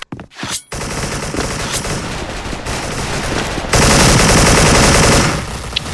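AK74 gunfire in the online shooter Special Force, with rapid automatic bursts that run almost continuously and grow louder and denser midway before tapering off.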